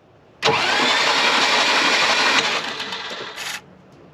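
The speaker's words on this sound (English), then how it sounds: "Sounds like an 80s Dodge fuel pump kick on." The fuel pump on a flooded 1980s Dodge Dakota convertible kicks on suddenly with a loud, steady electric whirring buzz that runs about three seconds, dips in level, then cuts off after a brief final burst, close up and without talk.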